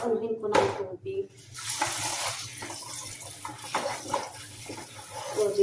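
Tap water running over raw chicken being washed at a kitchen sink, a steady splashing rush with small clatters from the pan and faint talk over it.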